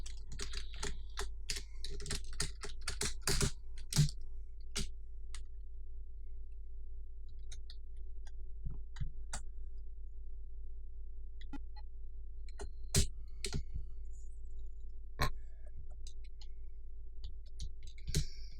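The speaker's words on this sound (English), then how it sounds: "I'm literally pressing every key on the keyboard." Computer keyboard keys pressed rapidly during a stream of 1980-era games: dense clusters of sharp clicks at first, then sparser isolated taps over a steady low electrical hum, with no talking.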